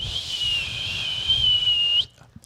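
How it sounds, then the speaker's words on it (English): Someone whistles a sustained, wavering tone for about two seconds, close and clear, then stops abruptly into near silence. "My bad for people in your ear if I'm whistling"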